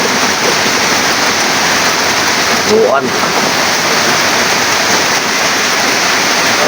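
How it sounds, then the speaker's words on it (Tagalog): Heavy rain pours down over a fishpond in a dense, steady roar, loud and constant throughout, with a brief spoken word in the middle. "Malakas na ulan."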